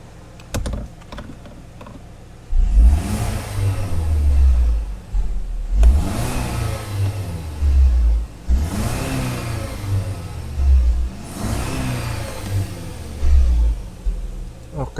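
Hyundai Santa Fe engine, which has an oxygen sensor fault, snapped through repeated throttle blips: three loud, close revs rising and falling roughly every three seconds over a steady idle.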